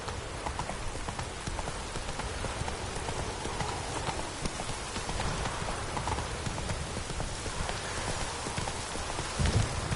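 Roach the horse galloping in The Witcher 3: Blood and Wine, a rapid continuous clatter of hooves that stays steady and moderately loud, mixed with a rain-like hiss throughout.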